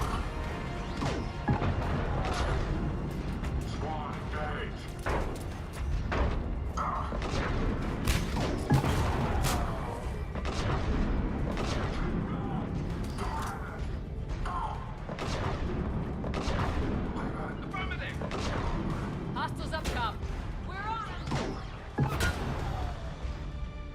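Rocket launcher blasts and explosions in the video game Mass Effect 3 crash repeatedly in a dense barrage of booms, impacts and gunfire, loud and near, with sharp bursts every second or two over a constant rumble.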